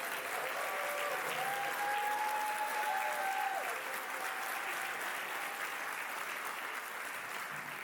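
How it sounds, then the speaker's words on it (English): Audience at a chancellor's retreat keynote applauds the local advisory board members, a steady, dense wash of clapping that carries evenly through the whole stretch with a few faint whistles over it. "Could you all stand so we could give you a round of applause?"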